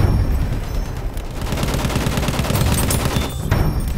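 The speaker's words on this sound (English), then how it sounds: "Machine gun!" Machine gun fire in Battlefield 1, a loud continuous rattle of rapid shots with booming battlefield noise underneath, dense and close throughout.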